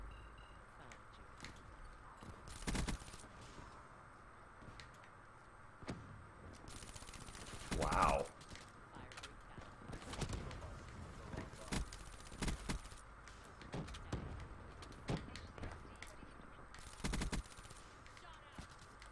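Gunfire in Black Ops 3 during a Ground War match, scattered sharp bursts and single shots at moderate loudness, with a player talking quietly between them.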